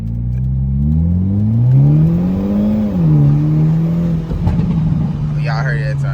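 A turbocharged Hyundai Elantra N street build revs close up, its engine note climbing and falling in smooth sweeps, then settling into a steady drone with a rough burst near the end.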